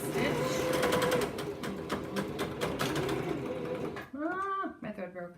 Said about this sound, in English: Make sure that I've got all the seams lined up exactly where I want them before putting it under the machine. And then I'm going to stitch.